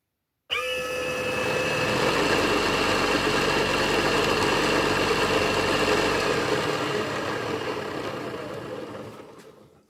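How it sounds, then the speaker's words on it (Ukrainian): An electric motor starts abruptly and runs with a steady whirring hum and faint whine for several seconds, then winds down near the end. "Включаємо двигун."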